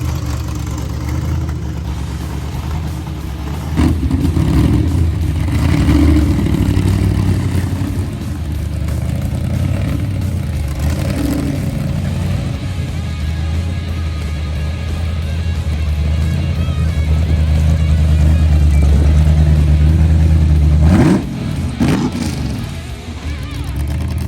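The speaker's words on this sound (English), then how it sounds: "56 is moving under its own power." A supercharged 1956 Chevy car drives under its own power, its engine rumbling and revving in uneven swells, rising to a loud rev near the end before settling back down.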